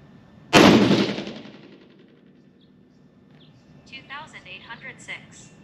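A single loud 6.5 PRC rifle shot cracks close by at an outdoor range and decays into a long rumbling tail, followed a few seconds later by birdsong.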